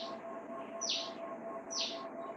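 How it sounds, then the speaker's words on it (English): Birds chirp in a garden, two bright, clear calls about a second apart over a steady low background hum. "I think it's birds chirping."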